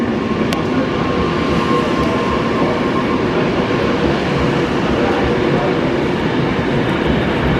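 Train running through Milton Keynes station without stopping, a steady loud rumble of wheels and carriages holding throughout at close range.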